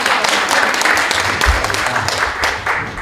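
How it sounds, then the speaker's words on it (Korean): Audience applause at an indoor civic debate forum, a steady wash of many hands clapping for about three seconds, fairly loud and continuous with no speech over it. "박수로 맞이해 주십시오."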